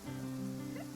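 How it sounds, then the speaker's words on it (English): Rain falls steadily in the Fontaine region of the video game Genshin Impact, a soft even patter under sustained low tonal hum from the game's background score. "It's raining."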